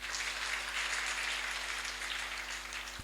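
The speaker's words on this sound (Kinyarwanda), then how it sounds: "Twongera umukoma amashyi mushima Imana." A church congregation at a Sunday school service claps continuously, a dense, steady wash of applause that stays at an even level throughout.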